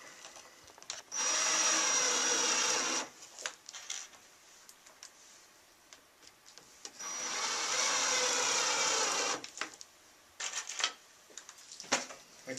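A power driver sinks screws into a Batchelor supply cabinet during assembly, with two sustained whirring bursts of a few seconds each, separated by quiet handling clicks and knocks.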